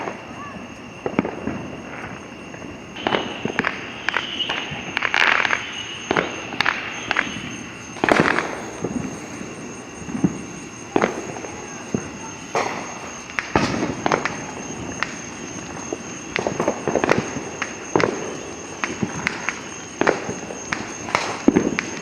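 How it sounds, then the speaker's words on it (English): Many fireworks burst in an unorchestrated backyard-style display, with sharp pops and booms that come irregularly, some near and some farther off, while people talk. "I mean, it is crazy how many fireworks we got going."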